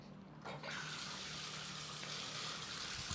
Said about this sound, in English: Let's run some water through it and test it out.